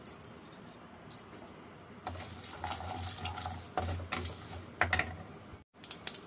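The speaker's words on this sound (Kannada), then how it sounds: "ನೋಡಿ, ಸಾಸಿವೆ ಎಲ್ಲ ಸಿಡಿದಿದೆ" Mustard seeds, curry leaves, urad and chana dal with chillies crackle and spit in hot coconut oil, a dense run of sharp pops and sizzle close up that swells midway with a brief drop near the end.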